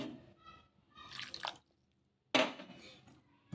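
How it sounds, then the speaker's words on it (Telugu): Water pours in two short bursts into a bowl of sago and peanuts, with dripping splashes and a quiet gap between them. "ఇప్పుడు నీళ్ళు వేసుకుందాం కొన్ని"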